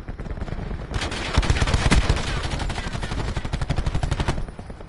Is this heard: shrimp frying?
no